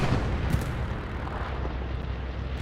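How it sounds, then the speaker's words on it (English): Bombing run explosions in the video game Hell Let Loose, a dense continuous low rumble of blasts and artillery-like booms layered over one another throughout. "Bombing run coming on in."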